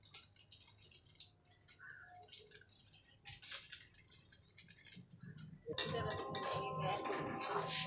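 A metal utensil clinks and scrapes against a pot as korma masala is roasted, first in sparse faint taps, then a louder steady sizzle with continuous stirring, all quite quiet.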